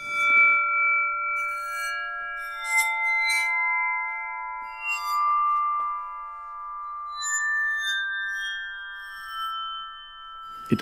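An aluphone bowed: sustained, glassy ringing tones swell and overlap, bowed metal notes that shimmer and hold for long stretches with faint scraping at the start.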